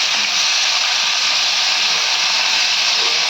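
Shallots and garlic sautéing in a hot pan for a veldt grape chutney, giving a loud, steady, close sizzle that runs unbroken for a few seconds with no voices.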